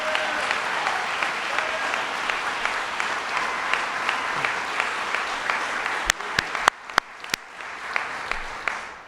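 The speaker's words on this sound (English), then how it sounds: "Let's give him a round of applause." Steady applause from an audience at an official announcement event in Buffalo, a dense continuous clapping that thins out toward the end into a few separate sharp claps.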